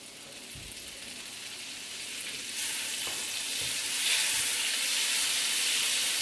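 Butter sizzles in a hot pan for buttered prawns, a steady bright crackle that grows louder partway through, with a few soft knocks and no voices.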